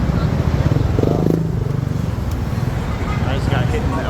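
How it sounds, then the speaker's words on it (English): Street traffic in the Philippines with motorbikes and cars passing close by: a steady, continuous rumble of engines with a brief louder pass, while a person talks over the noise. "There's all these motorbikes and cars and stuff."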